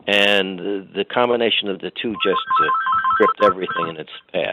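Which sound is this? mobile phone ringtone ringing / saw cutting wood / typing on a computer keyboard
mobile phone ringtone ringing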